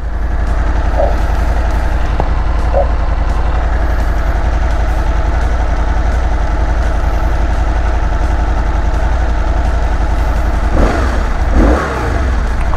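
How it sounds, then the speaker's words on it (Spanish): A Benelli TRK 502 X motorcycle engine roars steadily up close, a continuous heavy rumble, with a few revving surges near the end. "este motor ruge"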